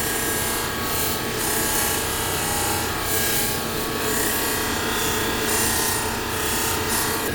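A knife blade pressed against a spinning polishing wheel gives off a continuous, even grinding whir, loud and unbroken from start to finish, with no voices.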